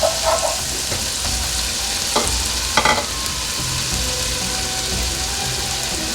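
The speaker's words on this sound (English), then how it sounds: "I'll saute a little bit." Chopped celery sautéing in a pot for harira soup: a steady nearby sizzle with a few sharper stirring scrapes and clinks along the way.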